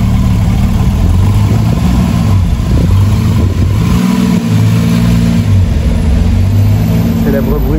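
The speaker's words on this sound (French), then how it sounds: "Célèbre bruit, le flat 6." A Porsche flat-six engine roars loud and near at a car meet, revving hard and holding high revs with a brief dip midway, while people talk over it.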